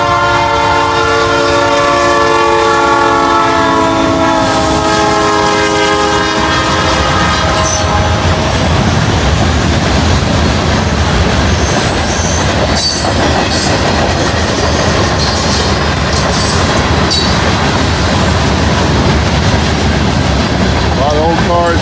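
A loud local freight train passes close by, its horn blaring at first, followed by the continuous rumble and clatter of rail cars rolling past.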